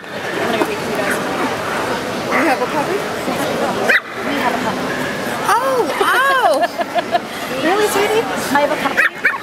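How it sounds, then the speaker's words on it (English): A Pomeranian puppy yips and barks repeatedly in high, excited bursts, with whimpers between, while people talk in the background at a dog show. "Yeah, there's a puppy in here."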